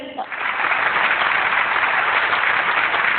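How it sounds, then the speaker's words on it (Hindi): A live comedy show audience claps in sustained, dense applause that swells quickly after a brief moment and carries steadily to the end, loud and close. "अच्छा, एक दफा फिर तालियां बजाइए।"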